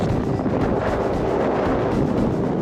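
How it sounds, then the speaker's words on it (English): Strong wind roars steadily throughout, a dense, unbroken rush of noise buffeting close to the microphone. "it's windy and cold and blowing"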